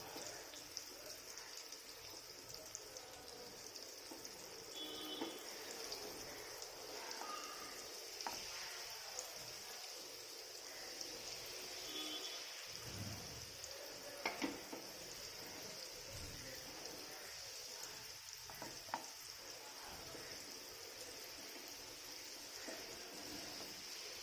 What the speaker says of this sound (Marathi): ही चांगली दोन्ही बाजूनी एकसारखी अशी मंदाचेवर भाजून घ्यायची